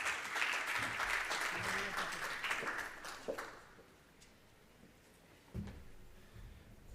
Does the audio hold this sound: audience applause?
yes